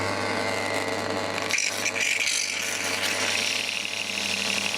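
Desk pen holder on a swivel turntable spinning far faster than intended under heavy load, making a continuous loud grinding whir with a steady low hum and a brief rough scrape near the middle.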